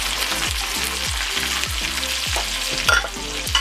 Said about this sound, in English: now the butter is brown, I'm gonna add the steak